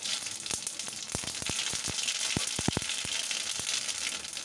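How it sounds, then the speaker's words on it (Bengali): Chopped garlic, mustard seeds and panch phoron sizzle and crackle steadily in hot oil for a mango chutney, with sharp pops and stirring clicks over a close, continuous hiss. "প্রথমে একটু রসুন কুচি দিয়ে দেবো আর আছে সরিষা পাঁচফোড়ন"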